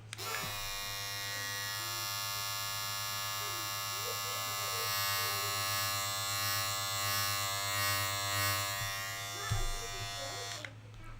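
An electric razor buzzes steadily and loudly for about ten seconds, a dense harmonic drone that starts and stops abruptly, recorded up close for use as an instrument sound.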